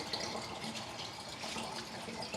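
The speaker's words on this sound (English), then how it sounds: "So we're using just cool water here. And I'm filling this bottle up, this 2-liter bottle," Cool tap water fills a 2-liter plastic bottle in a steady, continuous rush of liquid that stays close and moderately loud throughout, with no talking.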